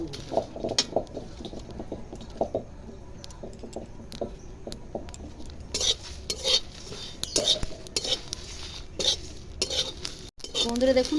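Puffed rice, coriander and cumin dry-roasting in a pan, with a spatula making rattling, clinking strokes against the metal and the grains scattering in light patters, close and uneven, with no talking.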